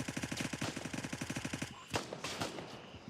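Automatic weapon fire in the military shooter game Gray Zone Warfare: a rapid, evenly spaced burst of shots for about a second and a half, then a few heavier scattered reports and crackle trailing off.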